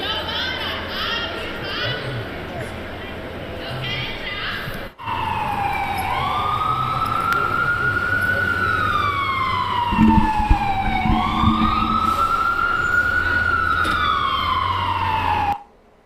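A loud ambulance siren wails close by in Times Square, sweeping up and down in long repeated cycles over steady traffic noise, with a brief thump partway through.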